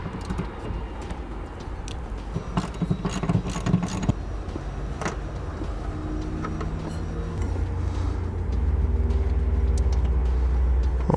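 A ratchet and 13mm socket work a nut off a stud while mounting a Curt powered tail light converter, giving close, uneven clicks and scraping metal ticks over a steady low hum.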